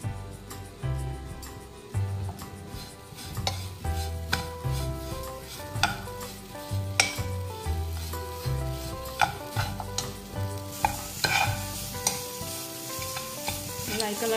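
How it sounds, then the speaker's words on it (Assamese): Grated coconut and sugar fry in a pan over lowered gas for coconut laddoo, with a steady sizzle and repeated scraping stirs close by, over faint background music. "নাৰিকল আৰু চেনিখিনি ভজা অলপ সময় হৈছে, আৰু অকণমান সময় ভাজিলে হ'ব আৰু।"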